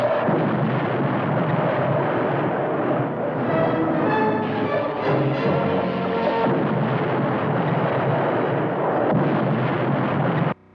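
A cartoon ship's weapon fires in a loud, sustained, roaring blast of booming, crackling energy that fills the scene for about ten seconds and then cuts off abruptly, with no voices over it.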